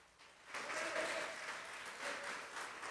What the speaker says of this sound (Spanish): ¿Cuántos les dan un fuerte aplauso a Dios?